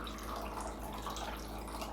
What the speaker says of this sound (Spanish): Vamos a agregar un poquito de agua a mi fuente